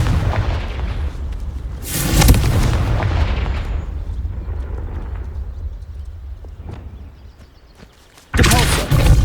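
Confringo fire spell blasts in the video game Hogwarts Legacy, loud booming bursts near the start and end with rumbling and crackling in between.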